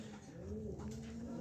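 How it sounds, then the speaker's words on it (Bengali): A pair of large pigeons coo softly nearby, a faint, low, rolling burble that rises and falls gently over a second and a half. "বিশাল সাইজের এক জোড়া কবুতর"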